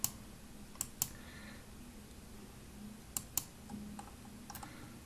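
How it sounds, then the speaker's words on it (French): A few sharp computer keyboard key presses while drawing in SketchUp, spaced clicks with a faint background hum, alone without talk. "j'appuie sur la touche Supr"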